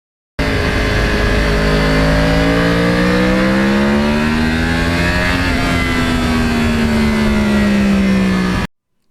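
A Yamaha R1 crossplane motorcycle engine revs loudly and close by, its pitch climbing and falling through long sweeping pulls with a harsh, uneven growl, alone for about eight seconds.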